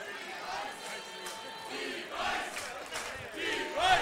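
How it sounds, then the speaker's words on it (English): Crowd noise at a national axe throwing championship, with spectators chanting and calling out in a rising, rhythmic swell, loud and close, with voices mixed throughout. "The crowd chanting for Wes and his device."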